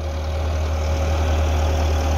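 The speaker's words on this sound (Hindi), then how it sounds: "जनाब मैसी 375 परकन इंजन विच है" Massey 375 tractor engine running steadily in a field, a continuous close, loud diesel drone with a low idling rumble and no voices.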